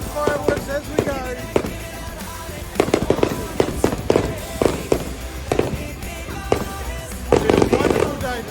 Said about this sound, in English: it's double the fireworks, so it's double the fun